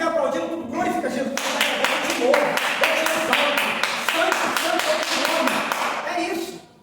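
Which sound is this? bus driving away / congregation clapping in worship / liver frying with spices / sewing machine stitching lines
congregation clapping in worship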